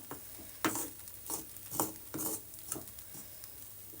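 Moong dal being roasted in ghee for a halwa, stirred with a spoon in a pan: soft, repeated scraping strokes about every half second with a faint sizzle underneath, close and fairly quiet, no voices.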